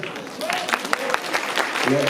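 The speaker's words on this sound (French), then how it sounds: "Je ne sais pas où ils sont les élèves, on peut les applaudir." An audience claps for students at a spring poetry event in Vence, a brief patter of scattered hands under someone talking, fairly close and moderately loud.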